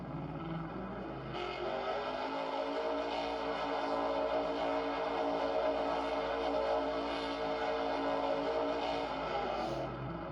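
A diesel truck engine roars in Farming Simulator 22, a steady, loud motor drone with layered harmonics that swells slightly partway through and runs without talk.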